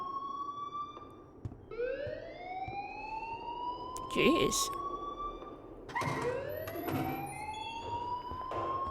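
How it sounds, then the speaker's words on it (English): In the video game Life Is Strange, a school alarm sounds with repeated rising electronic whoops, each sweeping upward before restarting, under a brief spoken exclamation and other voices. "please turn off that alarm since that's your job"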